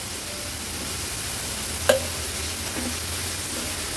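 Spices frying in ghee in a pan over a medium flame, stirred with a spoon: a steady soft sizzle with a single sharp clink of the spoon near the middle.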